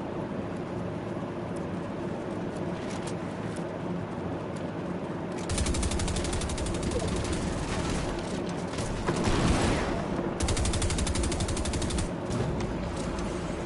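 Gunfire in the video game Fortnite: a dense, continuous rattle of rapid shots and distant bursts that swells midway and runs throughout at steady loudness, with no talk.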